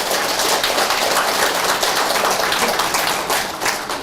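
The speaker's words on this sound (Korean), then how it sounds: "박수 한번 쳐도 되죠?" Audience applause at a church women's retreat lecture, a dense, steady wash of many hands clapping that stays loud throughout and eases slightly toward the end.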